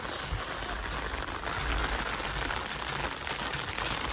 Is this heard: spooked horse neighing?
no